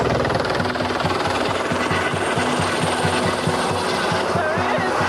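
A helicopter flies close by among the Swiss Alps, its rotor chop a loud, rapid steady beat over wind and engine whine, with faint voices underneath.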